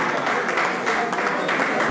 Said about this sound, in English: Keep clapping till he gets here, please